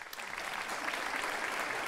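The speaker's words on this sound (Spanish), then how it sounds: "Aplaudo a la gente que haya venido en pareja." A stand-up comedy audience applauds in a dense, even wash of many hands clapping together, sustained for a couple of seconds at a moderate, somewhat distant level.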